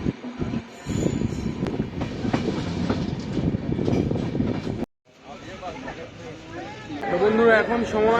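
The Kanchankanya Express pulls out of Sevoke station after dark, heard from inside a general coach as a rumbling, rattling run with wheel clatter, a brief drop-out, and a rising hum as it picks up speed, with voices in the carriage.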